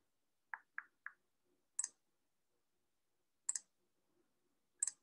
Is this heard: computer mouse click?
yes